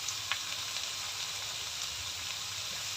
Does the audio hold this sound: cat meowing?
no